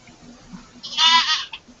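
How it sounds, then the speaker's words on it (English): Pygmy goats, a mother and her baby in a pen, are heard as one short, close bleat rising out of quiet background noise. No one talks. "Oh, and here is Mama and baby goat."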